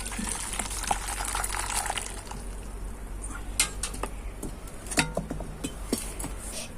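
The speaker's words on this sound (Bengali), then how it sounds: "আর এবার আমি জলটা ঝরিয়ে নেব। এবার আমি এই ছাঁকনিতে ছেঁকে নেব।" Water from freshly split chhena pours through a strainer as a soft, continuous trickle and splash, with occasional light clinks of a vessel, fairly quiet and close.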